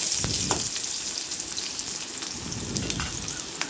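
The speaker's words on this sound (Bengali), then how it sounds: "আলুটা ভাজবো আর গাজর ভাজবো।" Potatoes and carrots fry in hot oil in a wok for shukto, a steady close crackling sizzle with scattered sharper pops throughout and no talk.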